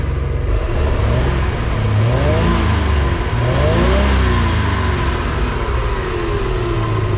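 A repaired MerCruiser 4.3 boat engine runs steadily and loud up close, its pitch rising and falling through a couple of revs, with the idle occasionally stumbling and breaking up.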